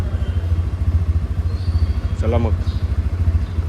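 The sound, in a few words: vehicle engine idling to warm up in the morning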